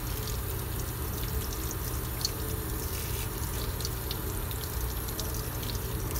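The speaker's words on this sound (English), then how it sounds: "I always use this method, the running water, for fast and easy cooling down process" Steady running tap water pouring continuously into a kitchen sink to cool cooked food quickly, a constant close-up splash and hiss with no talking.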